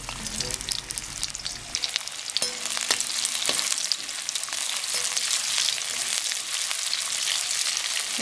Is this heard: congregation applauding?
no